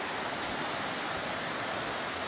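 A creek flows beside a campsite, a constant dense rush of moving water filling the scene without a break, close and fairly loud with no other sounds standing out.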